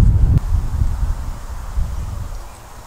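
Wind gusts across an old pioneer cemetery, buffeting the microphone as a low, uneven rumble with a strong blast at the start that settles into softer, wavering gusts.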